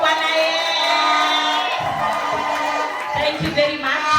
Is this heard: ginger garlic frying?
no